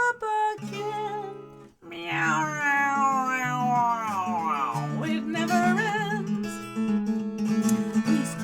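A singing voice imitates a cat's meow in long, sliding, drawn-out notes over steady musical accompaniment, loud and close throughout.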